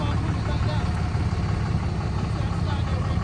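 A hotshot truck's engine idles close by in a continuous, loud low rumble that stays even and steady throughout, with no voices over it.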